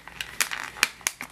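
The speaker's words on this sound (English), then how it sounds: "please excuse the noise of me trying to get these out of the package" Plastic packaging for ELF makeup products crinkles and crackles in short, irregular bursts as it is pulled open, close by but fairly quiet.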